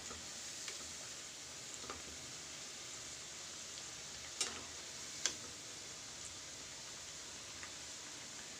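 Potato pakoda frying in hot oil, a soft steady sizzle and bubbling that stays close and even throughout, with a few faint clicks and stirring taps scattered over it.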